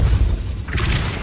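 Depulso force spell cast in Hogwarts Legacy, a brief heavy whoosh and rumbling burst followed by a bright crackling shimmer.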